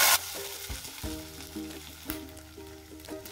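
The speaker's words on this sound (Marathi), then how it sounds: "आता आपण त्यात 1 बाउल भरून ओल्या मटारचे दाणे घालणार आहे" A bowl of fresh green peas dropped into hot oil with crackled cumin and five green chillies, a loud hiss at first, then steady close sizzling with scraping stirs, no voices.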